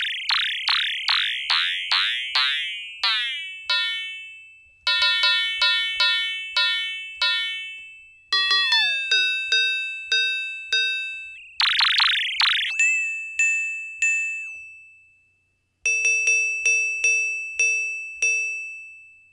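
Fast frequency-modulation synth tones from Bitwig Studio ring out as a run of bright, pitch-sweeping dings and chirps, repeated in quick rhythmic bursts with brief silent gaps, clean and alone.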